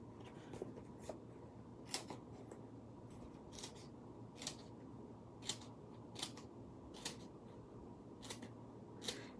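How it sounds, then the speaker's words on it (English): Scissors snip through paper card for a Christmas card craft, giving about a dozen short, crisp cuts at an uneven pace over a quiet room background. "So I'm gonna cut out a new one here."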